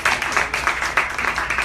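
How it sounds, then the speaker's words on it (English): An audience gives sustained, dense applause after a speaker is introduced at a talk, loud and close with steady rhythmic clapping throughout. "let's have a great applause for Kary"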